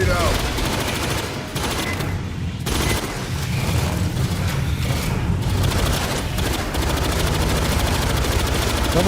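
Grenade blast and dense gunfire in Warhammer 40k, a sustained loud barrage of rapid shots and booms running throughout with voices talking over the battle.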